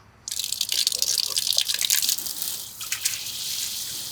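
Water sprays and hisses under pressure from an outdoor faucet, a steady rushing spatter that starts abruptly and runs continuously, close and fairly loud, with a brief dip midway.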